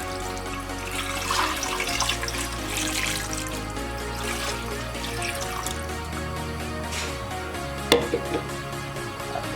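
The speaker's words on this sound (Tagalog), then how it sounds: "at ilagay natin ang tubig." Water is poured into a pot on a kitchen stove to boil pork for crispy chicharron, a steady rushing splash that runs throughout, with a sharp metallic clank near the end.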